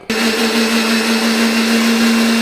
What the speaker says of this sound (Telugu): టోటల్ మిక్సీ వేసి తీసుకోవాల్సి ఉంటుంది ఇలా నున్నగా గ్రైండ్ చేసుకోవాలి